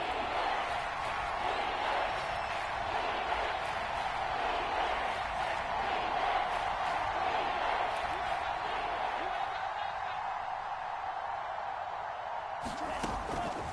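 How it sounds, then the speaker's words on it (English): A large crowd at an NFL stadium for a New England vs Dolphins game roars in a steady, dense wash of cheering and noise, sustained throughout and heard from a distance. "The crowd getting into it as we come up on a big 3rd down"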